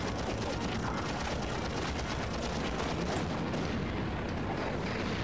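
Bomb explosions in the Heroes of the Pacific air-combat video game form a dense, continuous roar of blasts and crackling gunfire-like bursts, steady and fairly loud throughout without speech.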